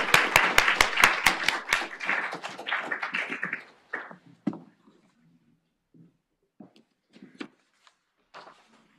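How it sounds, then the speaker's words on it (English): Small audience clapping for a couple introduced at a university talk on community science and environmental justice; a quick burst of sharp claps fades over about four seconds into a few scattered taps and knocks. "Can you please give them a round of applause?"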